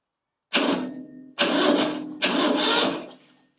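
An old, abandoned lawn mower's electric starter cranks the engine in three separate bursts, each a loud, close whirring grind about a second long with short gaps between them, and the engine never catches.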